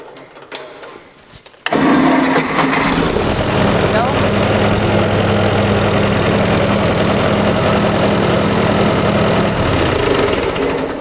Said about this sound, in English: Now let's start up the tractor and see how it sounds.